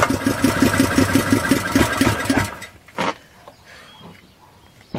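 A Honda GX200 clone small engine running on propane chugs with a steady rapid beat and then cuts out abruptly midway, leaving a quiet background with a few faint knocks.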